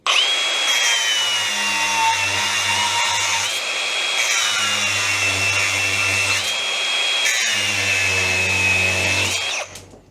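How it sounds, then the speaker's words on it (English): An angle grinder cuts through 10mm steel rebar in a loud, continuous high-pitched whine that holds steady for about ten seconds, with slight pitch dips as the disc bites, then cuts off abruptly at the end. "Angle grinder on 10mm rebar."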